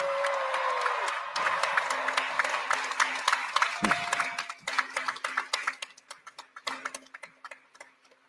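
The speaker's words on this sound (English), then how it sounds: "And I think that deserves another round of applause." Applause from a graduation crowd in caps and gowns, dense at first with a brief voice, then thinning into scattered individual claps that fade out.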